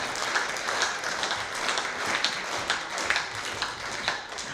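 Audience applause at a Tatar youth performers' concert, a steady wash of many hands clapping for several seconds at moderate distance, even and continuous without talk.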